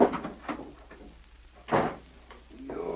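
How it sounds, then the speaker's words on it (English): Door bursting open as a radio drama sound effect, a cluster of wooden knocks and bangs with one sharp, louder impact midway, followed by a short clattering scrape. "The door burst open"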